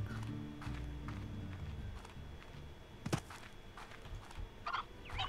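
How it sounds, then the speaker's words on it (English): Chickens cluck and gobble in the Slime Rancher video game, with short bursts of bird calls rising over steady game ambience and footstep-like thumps. "There's a chicken."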